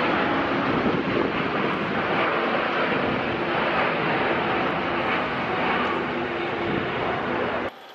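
A fully loaded Airbus A380 on a fast takeoff roll gives a loud, steady, broadband jet roar that holds for about eight seconds. It sounds close and wind-buffeted, then cuts off abruptly at the end.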